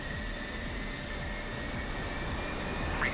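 A military aircraft in the combat flight sim DCS World roars steadily on takeoff, a continuous loud engine drone with a faint high whine running unbroken throughout, no voices.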